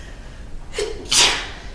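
A single close sneeze with a short intake of breath before it, in an otherwise quiet room.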